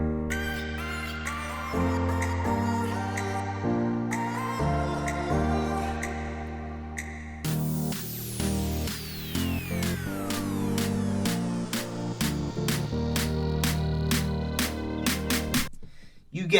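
Punchy electronic synth chords chopped into a stuttering, glitchy rhythm, then a denser, brighter section with sweeping tones and rapid repeated hits before a sudden cut.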